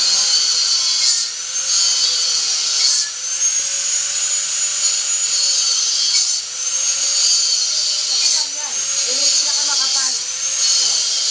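An angle grinder running at high speed, a loud whining drone with brief dips and recoveries as it bites into the work, steady throughout.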